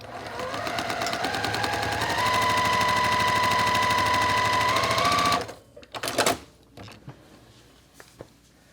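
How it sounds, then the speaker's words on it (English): A sewing machine stitches quilt block fabric in a steady rapid run of needle strokes that rises slightly in pitch, then stops, followed by a few clicks and rustles of handling. "Right sides together. Sew on that line."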